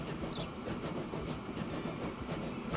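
A train in the Transport Fever 2 game rolls along at speed with a steady rumble and a rhythmic clickety-clack of wheels over rail joints, close and even throughout.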